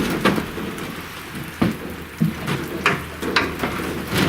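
Steady rain falls with a constant wash of noise, broken by occasional louder drops or thuds, fairly close.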